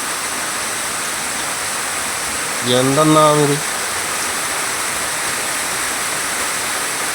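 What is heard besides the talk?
rainwater rushing down from the hill through the yard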